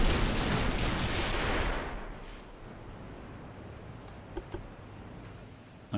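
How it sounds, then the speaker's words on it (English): Warship guns fire in the naval game Ultimate Admiral: Dreadnoughts with a loud, rolling blast that fills the first two seconds, then fades into quieter rumble with a couple of faint, distant thumps near the end. "That might get our other guns involved. Let's see if they can fire now."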